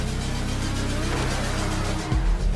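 Pegassi Tempesta sports car in GTA, all-wheel drive, pulling hard from a standstill with a loud, rising engine drone that builds continuously, ending in a low thump.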